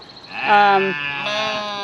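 A sheep bleats once, close and loud, in a long wavering cry that fades and then rises again briefly.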